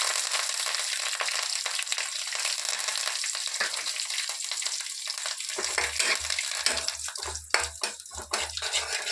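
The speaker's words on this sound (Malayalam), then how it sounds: "കരിവേപ്പില ഇടാം." Curry leaves hit hot coconut oil already popping with mustard seeds and dried chillies, a close steady sizzle with spatters and stirring scrapes, joined midway by a low steady hum.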